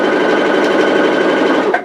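A sewing machine runs steadily, stitching tape onto a simple roman blind, its close, continuous motor whir holding even before easing slightly at the very end.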